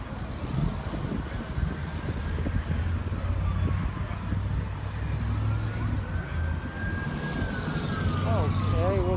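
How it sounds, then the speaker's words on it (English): An ambulance siren wails through a busy night street scene on West Florissant at Canfield in Ferguson, rising and falling at a distance under traffic rumble and low crowd noise, with people talking nearby. "Oh, an ambulance."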